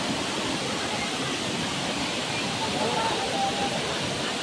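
Savatkada waterfall in Ratnagiri roars as a continuous, even wash of falling water, loud and unbroken from start to finish, with faint voices nearby.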